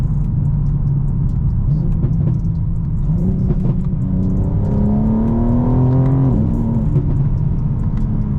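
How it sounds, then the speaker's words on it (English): An 850hp BMW G82 M4 xDrive engine revs loudly and close, its raw exhaust note with no active sound climbing in pitch then dropping back, with a steady rumbling drone throughout. "That sound is all raw exhaust. There's no active sound."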